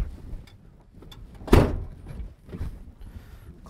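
A door shutting with a single solid thunk on a Komatsu HM-300 articulated haul truck cab, close and fairly loud against a quiet interior background.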